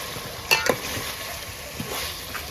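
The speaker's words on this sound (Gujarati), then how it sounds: "આપણે પાણી નાખવાનું" A steady sizzle as water hits a hot frying pan cooking bangda (mackerel), with a few sharp clinks of a utensil against metal near the start.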